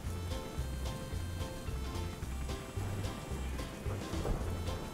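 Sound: rainstorm with thunder in a Roblox video game

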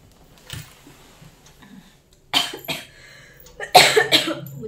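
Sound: coughing

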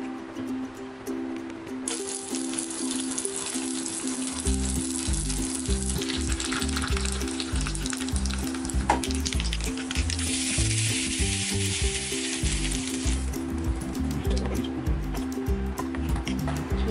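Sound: curry leaves and mustard seeds sizzling in oil

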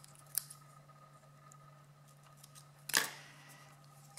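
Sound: scissors trimming ribbon

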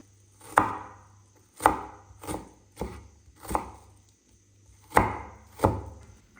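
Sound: chopping onion finely with a knife

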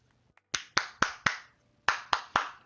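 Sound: clapping in video game Civilization 6

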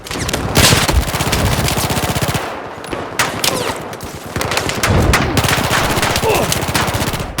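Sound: gunfire in the video game Battlefield 4

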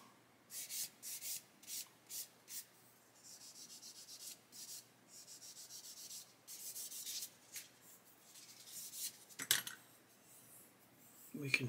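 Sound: polishing a plastic model part

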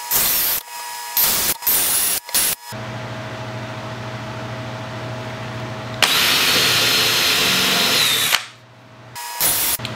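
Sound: power drill driving screws into wood birdhouse

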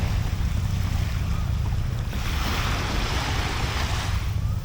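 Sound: water splashing

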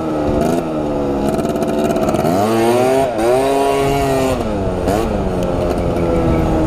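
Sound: cheap stunt scooter engine revving during wheelie training

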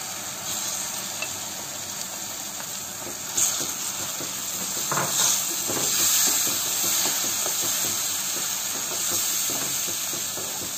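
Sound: fresh tomato paste added to cooking masala in pan

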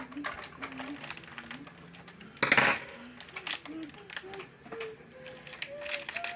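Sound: cutting open packaging of pearl earrings

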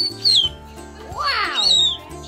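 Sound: cockatoo high-pitched scream

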